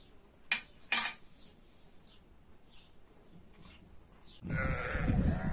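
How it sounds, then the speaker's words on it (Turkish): Sheep being let out to graze give a couple of short bleats near the start, fairly faint over quiet outdoor background, before a louder rustling noise takes over toward the end. "Evet, kirlin koyunları yine saldık."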